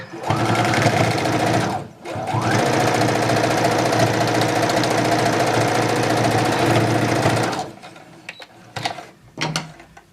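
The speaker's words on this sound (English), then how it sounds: "I'm gonna sew these little hems up first" A sewing machine stitching tiny hems on a headband runs in a loud, steady mechanical whir, pauses briefly near two seconds, then resumes until stopping, followed by a few faint handling clicks.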